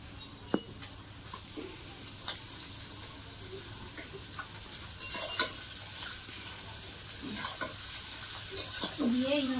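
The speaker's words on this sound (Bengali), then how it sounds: "জল ঝরিয়ে রাখা চাউমিন কড়াইয়ের মধ্যে দেবো" Drained chowmein noodles stir-fried in a wok over a plain tomato base, with a soft continuous sizzle broken by scraping and tossing strokes of the spatula, heard close up with no one talking.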